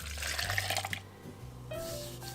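About a cup of water is poured into two dates for a date sauce, a close, steady liquid pour that stops briefly and then resumes.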